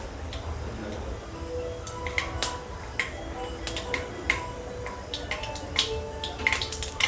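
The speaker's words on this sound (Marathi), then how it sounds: "मोहरी तडतड करायला लागली" Mustard seeds crackle and pop in hot oil in a kadai, with faint, sharp, irregular ticks scattered over a low background hiss.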